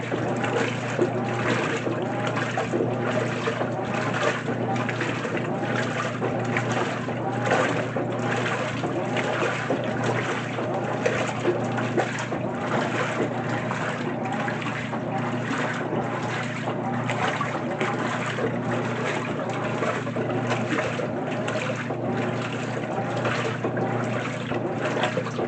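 A 2024 GE top-loading washing machine agitates a load of water on its normal cycle, producing a steady, loud churning and sloshing that runs continuously without pause.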